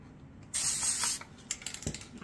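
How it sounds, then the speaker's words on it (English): A short, loud hiss of Quick Grip glue sprayed onto a paper towel lasts under a second, followed by faint clicks and rustling handling noises close by. "I'm going to use my quick grip glue. I'm just going to spray some on there."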